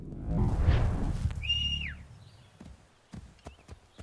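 In Assassin's Creed III, a horse whinnies loudly over rumbling hoofbeats, then a high whistle-like call, followed by a few scattered hoof clops fading out.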